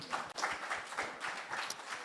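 Light, brief applause at a church photography masterclass for a guest, quiet rhythmic claps from a small audience heard alone.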